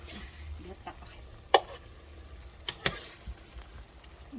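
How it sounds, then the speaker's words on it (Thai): A spatula scrapes and scoops stir-fried bell pepper out of a hot pan, with a few sharp clinks and scrapes standing out over a low, soft sizzle. "เดี๋ยวตักออก"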